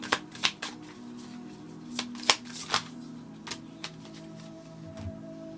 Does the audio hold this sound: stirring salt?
no